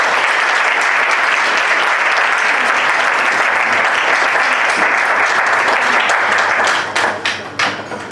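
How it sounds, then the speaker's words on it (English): A debate championship audience claps for the finalists in a steady, dense burst of applause that stays loud for several seconds, then thins into scattered claps at the end. "Can we please clap again for our finalists?"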